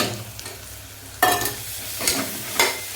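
Ginger garlic paste frying with onions for a chicken kuzhambu, stirred in the pan: a constant hiss broken by three loud scraping strokes, the first and sharpest about a second in, close up with no talking.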